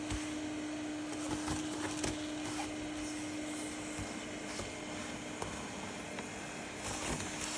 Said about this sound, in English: and then use the vacuum with it